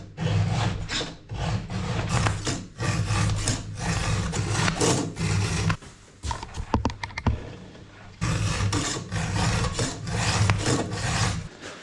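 A hand file rasps across a chainsaw chain in repeated rhythmic strokes, loud and close, with a brief pause and a few lighter scrapes midway before the steady back-and-forth filing resumes.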